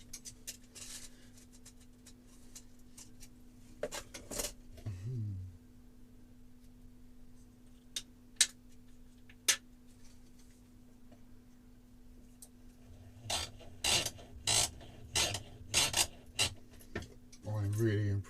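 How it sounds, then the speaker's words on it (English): Small hand drill boring a pilot hole through a plastic part of a 1:72 Harrier model kit, a faint intermittent whirring and ticking in short bursts with quiet gaps. "Drill a pilot hole"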